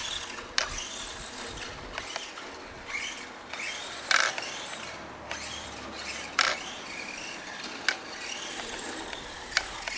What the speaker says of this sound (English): Oh wow, steering servo looks pretty quick.